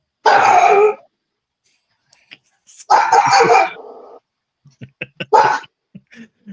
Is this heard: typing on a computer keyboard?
no